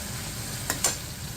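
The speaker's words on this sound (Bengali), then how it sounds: "মশলাটা কষানো হচ্ছে" Spice paste frying in a pan as it is sautéed for a greens dish with taro and pumpkin, a soft steady sizzle with two brief louder scrapes of stirring, close and unaccompanied by talk.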